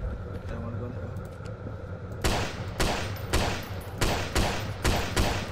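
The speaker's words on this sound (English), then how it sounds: "I'm shooting the body." Video game gunfire crackles in a fast series of sharp shots, roughly six loud bursts at a steady beat over a low ambient game drone, with a person talking through it.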